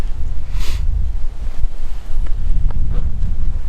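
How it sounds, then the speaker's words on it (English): Strong wind buffets the microphone with a low, rumbling roar, gusting unevenly for a few seconds outdoors. "It's cold and windy"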